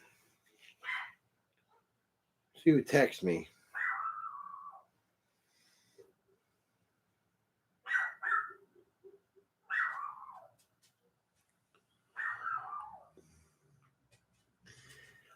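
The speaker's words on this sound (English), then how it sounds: "Shut up, dogs." Dogs give several separate barks and yelps spaced by silences in a quiet room, close and moderately loud, with a person speaking briefly between them.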